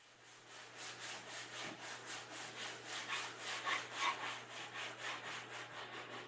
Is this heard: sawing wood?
yes